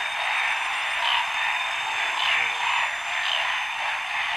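A frog croaks beside a lake on Samar, a steady, dense outdoor chorus that carries evenly throughout with no clear pauses.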